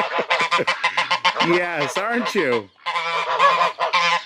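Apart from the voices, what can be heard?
geese honking in a barn, Czech and Chinese geese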